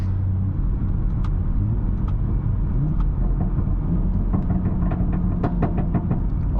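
The engine of a BMW 440i Gran Coupe drones low and steady from inside the cabin while driving. It holds a constant rumble for the whole stretch, and light clicks and knocks sit on top of it. Nobody speaks.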